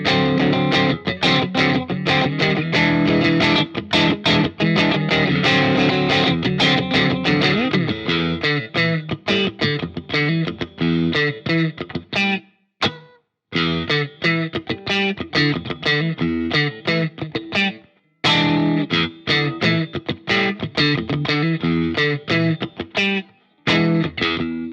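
Strandberg Boden Standard 6 electric guitar played loud and alone through distortion and effects, with dense driving chords and riffs broken by a few short stops.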